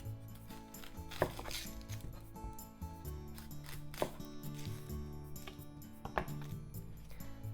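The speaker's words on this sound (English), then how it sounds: "Onion. Cut the top and the bottom off." Knife chopping off the top and bottom of an onion on a board, a few sharp cuts standing out over steady background music, no voices.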